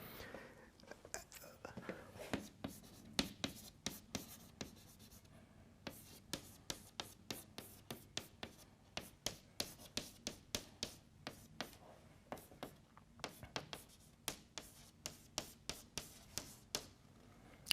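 Chalk or marker tapping and scratching on a board during a physics lecture, in a long run of quick, evenly spaced strokes and taps, with faint room noise behind it.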